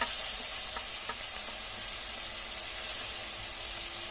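Dry spices, starting with turmeric powder, hit hot oil in a pan for a rohu fish curry, giving a steady, close sizzling hiss that runs without a break for a few seconds.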